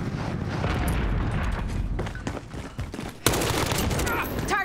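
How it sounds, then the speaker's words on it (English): Rapid gunfire from a gun in the Modern Warfare video game, a close, loud stream of repeated shots with a sharp burst near the end, mixed with game effects and a voice talking over it. "Why does this gun take so many shots to kill someone?"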